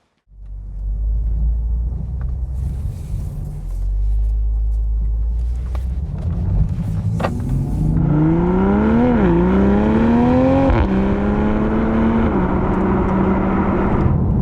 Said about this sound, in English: I'll try and just give you some nice footage of what it's like to drive the new Supra.